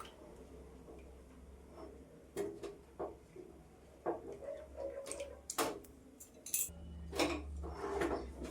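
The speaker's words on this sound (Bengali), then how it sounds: "এই দেখুন অনবরত নাড়তে থাকবো, শুধু নাড়তে থাকবো।" Coconut powder and milk for a sweet are stirred continuously in a pot, producing faint, irregular clinks and scrapes of the spoon against the metal over a low background hum.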